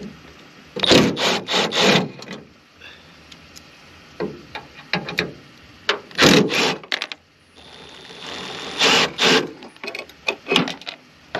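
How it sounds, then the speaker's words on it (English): Allen key bolt socket turning the bonnet bolts on a MK6 Ford Fiesta, giving close, repeated bursts of ratcheting and scraping metal with short pauses between turns. "Hopefully I've got a Allen key bolt socket that fits it"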